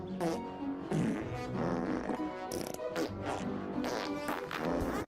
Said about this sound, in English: Let's just stand in our garden and fart.